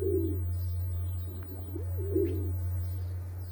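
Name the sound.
pigeons cooing in a nest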